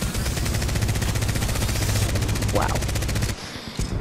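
Devotion gun in the video game Titanfall 2, a level 1 weapon, firing a rapid automatic stream of shots at a fast steady rhythm that cuts off near the end, with a single brief exclamation spoken over it.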